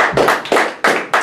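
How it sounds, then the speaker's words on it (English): Sharp, close hand claps at a comedy hypnotist stage show, about five loud separate strikes in an uneven rhythm, each ringing briefly before the next. "Nice big round of applause."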